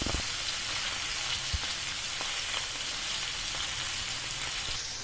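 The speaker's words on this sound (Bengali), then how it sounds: "খুব কড়াভাবে ভাজবো না, একটু হালকা করে 2 পিঠটা ফ্রাই করে নেবো।" Paneer pieces frying lightly in oil in a kadai, a steady dense sizzle like rain on a surface, close and continuous with a few brief louder crackles.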